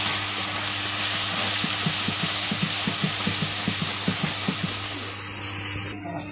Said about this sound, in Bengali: এখন সব মশলা কষে নিব তারপরে মাংস দিব